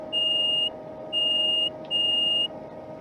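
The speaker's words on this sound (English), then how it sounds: "So return the guard buzzer." Guard buzzer in a Class 390 train simulator cab: three evenly spaced electronic beeps, each about half a second long, sounding clearly over a steady low cab hum.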